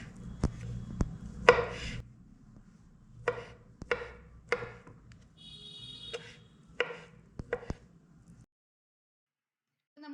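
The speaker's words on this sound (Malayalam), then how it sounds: "പീൽ ചെയ്ത് വെച്ചിരിക്കുന്ന കിവി നമുക്ക് ചെറുതായിട്ടൊന്ന് കട്ട് ചെയ്തെടുക്കാം" Peeled kiwi chopped into small cubes with a knife on a cutting board, about a dozen sharp, close knocks in an irregular rhythm with short pauses, no talking, ending in silence.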